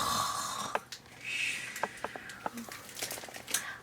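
A storyteller reading the children's book Bear Snores On imitates snoring with a few raspy, breathy snores in a quiet room, followed by soft clicks and rustles.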